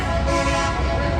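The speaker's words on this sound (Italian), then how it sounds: "si divertono con i clacson" A loud, sustained car horn blares continuously, dense and close, with other traffic noise underneath, heard from a boat around Manhattan, New York.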